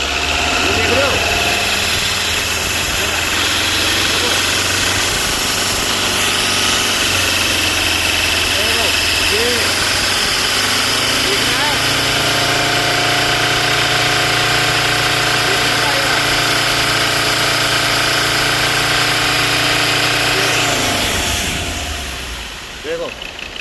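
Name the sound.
Ford Endeavour 2018 diesel engine revving, noise problem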